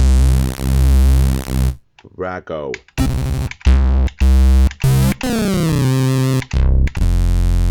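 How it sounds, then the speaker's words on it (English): Commodore 64 SID chip sounds played on a Polyend Tracker: a string of loud, buzzy chiptune stabs and bass tones, with sweeping pitches and abrupt cuts between bursts, and a brief spoken word in the middle. "These are straight off the SID chip, useful for breakdowns and stabs as well."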